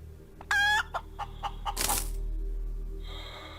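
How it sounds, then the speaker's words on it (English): Chicken clucking in the space survival game Breathedge: a sharp rising squawk followed by a quick run of short clucks, then a breathy flutter, over a low electronic hum, close and clear with no talk. "The immortal chicken."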